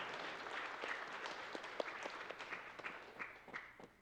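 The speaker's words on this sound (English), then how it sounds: "It's so weird to hear clapping for bad fights." A crowd claps faintly at a Contra 4 speedrun event, a short, soft patter of applause heard from a distance that fades out by the end.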